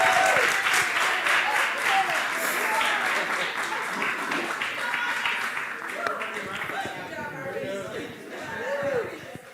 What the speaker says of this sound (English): give a big applause for our contestants.